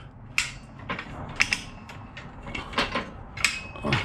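A modified HF 20 ton shop press is cranked upward, giving a run of distinct metallic clicks and ratcheting clacks at an uneven pace, close and fairly crisp.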